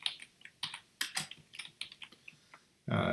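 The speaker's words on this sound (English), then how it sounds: "Type in your keywords that you selected for your domain name." Keywords are tapped out on a computer keyboard in quick, uneven bursts of crisp, close key clicks. The typing stops near the end and gives way to a louder broadband noise.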